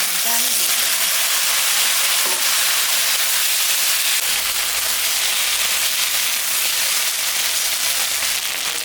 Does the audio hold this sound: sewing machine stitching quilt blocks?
no